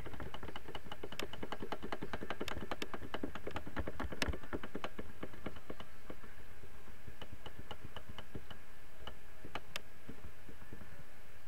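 Rapid clicking from a computer mouse during a frantic strategy game, a dense stream of sharp, close ticks and taps that runs nonstop and thins out toward the end.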